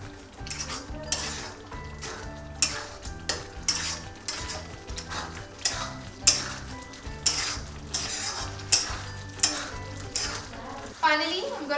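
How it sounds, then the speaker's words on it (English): Green kadai chicken with cream, kasuri methi and garam masala stirred in a kadai on high flame: steady sizzling and frying with rhythmic scraping and clinks of a spoon against the pan, close and fairly loud throughout. "I'm going to mix on high flame"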